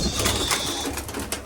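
Tedhi pigeons coo softly outdoors after being let out of their cage, low murmuring calls under a steady background hiss, brief and fairly faint.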